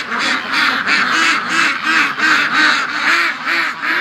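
A group of ducks quacks at the gate in the morning. Close, loud quacks repeat in a steady rhythmic chorus, with nothing else over them.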